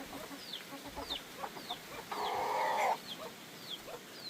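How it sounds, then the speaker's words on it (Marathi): Hens and small chicks in a Konkan village yard at Kotaluk, Guhagar, make soft clucks and high, repeated peeping calls, with a brief burst of background noise partway through, all fairly faint. "बघा कोंबड्या, छोटे छोटे पिल्ले आहेत"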